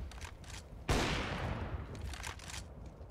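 Gunfire from pistols during a Counter-Strike match on the Train map, with a loud burst of shots at about one second that leaves a broad, fading wash of sound. Softer background game noise continues around it.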